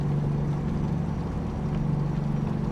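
Stock, unmodded engine of a truck in American Truck Simulator drones steadily at a low, even pitch with a faint rhythmic throb, close and continuous with no talk over it.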